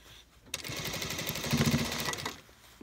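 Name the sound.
sewing machine stitching a coat sleeve hem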